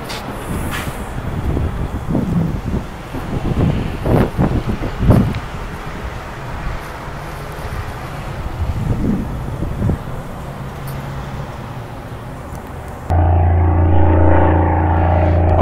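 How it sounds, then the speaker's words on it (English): A boat on Shasta Lake gives a loud, steady droning engine hum near the end, after a stretch of blustery wind noise and rumble from an open convertible. "that boat is so loud"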